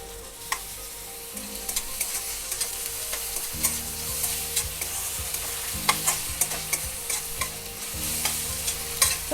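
Crushed ginger and garlic are sautéed with softened onions for chicken korma, producing a continuous frying sizzle broken by repeated spoon scrapes and taps against the pan, close and steady, with no one speaking.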